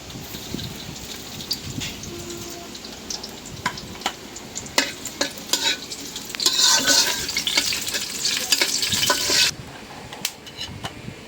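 Dried red chilies frying in hot oil in a pan, stirred with a utensil: a light crackle at first, then a louder burst of sizzling with scraping strokes that drops back near the end.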